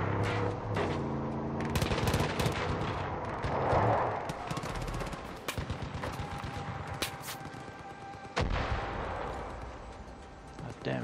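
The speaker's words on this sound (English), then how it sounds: "The hell he's shooting the floor of the ground for" Rapid automatic gunfire from Far Cry 5 rattles in dense bursts with scattered single cracks and a heavier thud near the end, loud and close over continuous game noise.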